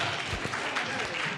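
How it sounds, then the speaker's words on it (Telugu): Children clap their hands together in a short, steady burst of applause at a church vacation Bible school gathering, close and continuous, with faint voices underneath. "క్లాప్స్ కొట్టండి."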